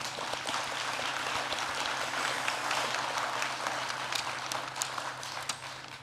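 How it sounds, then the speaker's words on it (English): An audience at the 2024 Arch Awards ceremony claps in a steady, moderately distant patter of many hands, continuing evenly for several seconds without voices. "I think it's worthy of applause."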